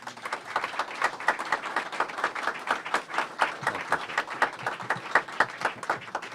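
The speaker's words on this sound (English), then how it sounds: "would you give a big round of applause and a big welcome?" An audience at an airport lounge opening event applauds to welcome a speaker, with distinct, moderately paced claps in a fairly sparse, even rhythm throughout.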